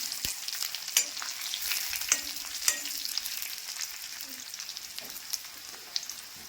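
Dried red chillies and curry leaves fry in hot oil, giving a steady close sizzle with occasional pops and crackles and a stir or two, no talking.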